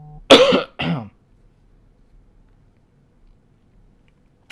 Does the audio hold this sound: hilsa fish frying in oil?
no